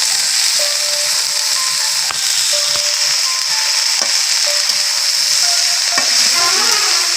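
Food frying in a pan gets stirred with a utensil, bright steady sizzle under repeated scraping and clacking strokes at a loose rhythm, close and loud with no talking.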